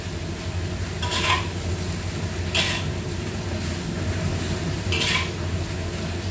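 Pork and yam rice stirred in a pot, a low steady scraping and shuffling with three brief brighter scrapes of the utensil spaced about a second or two apart, fairly close and with no talking.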